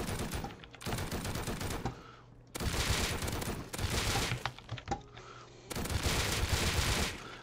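Rapid bursts of gunfire from the video game Rust ring out in loud, dense volleys separated by short gaps, with faint speech mixed in.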